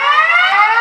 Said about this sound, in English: There's the noise. Definitely a sounding alarm.